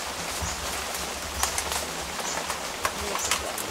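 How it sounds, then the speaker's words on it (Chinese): Steady rain pattering outdoors in the hill country of the Golden Triangle, a dense even hiss with scattered drop taps and a bird cooing faintly in the background. "下雨了。"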